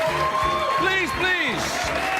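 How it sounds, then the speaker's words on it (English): Studio audience applause at the Late Late Show in Los Angeles, a steady dense clatter of clapping that fills the room throughout, with a voice speaking over it. "Come on, you can't keep that applause going."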